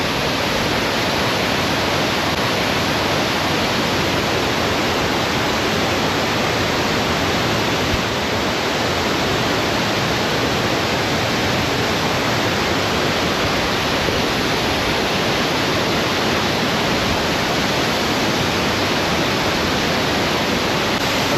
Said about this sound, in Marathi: पाण्याचा प्रवाह अतिशय प्रचंड वेगामध्ये खाली उतरतोय खडकांवरून आदळून. आणि हे बघा इथं प्रवाह निर्माण होतो. हाच आहे तो सावडाव धबधबा